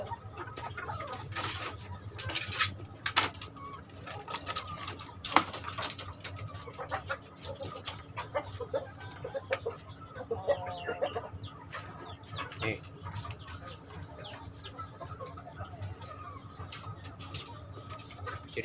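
Rooster and hens cluck steadily in a poultry yard, with scattered crows, soft coos and busy overlapping calls that carry on throughout at moderate level, with no talking.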